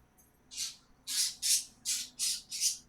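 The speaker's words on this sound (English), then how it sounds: "Uh-oh, the birds woke up." Birds squawking in the city-building game Banished: a short faint call, then five loud, evenly spaced squawks in a steady rhythm, close and clear with no talk.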